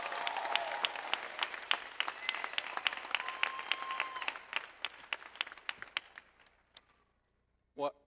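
A crowd at a college commencement ceremony applauds a speaker steadily for several seconds, the clapping thinning out and fading to silence, then a brief voice at the end.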